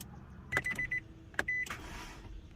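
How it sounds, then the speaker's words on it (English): Starter on a Nissan Altima clicking as the key is turned: two sharp, close clicks about a second apart, each followed by a brief whirring tone, then a softer rustle in a quiet car. "I heard the starter actually click, and I can hear it click now."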